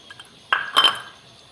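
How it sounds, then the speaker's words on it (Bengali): A spoon stirring beaten yogurt into soybean curry in a pan makes two quick metallic clinks and scrapes, close and brief, over near silence. "এবার ভালো করে একটু সমানে নাড়াচাড়া করবো"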